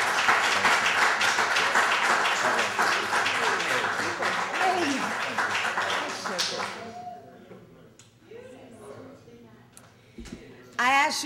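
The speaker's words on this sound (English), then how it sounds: "let's give her a great round of applause." Audience clapping at a library poetry reading, a loud burst of applause that thins out over about six seconds, followed by quieter room sounds and a few scattered claps, with speech mixed in.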